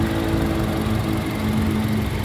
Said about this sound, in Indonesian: Nih, buktinya mesin nyala.